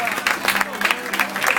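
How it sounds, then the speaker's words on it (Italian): A short burst of audience applause at a live Halloween concert, moderately loud scattered clapping and crowd noise from a room, with voices mixed in. "Facciamo un applauso a Simone"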